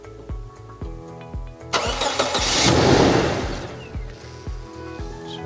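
A Toyota Hilux engine is cranked with a rapid rhythmic churn of the starter, then catches and roars into life with a loud surge before settling into a steady idle close by.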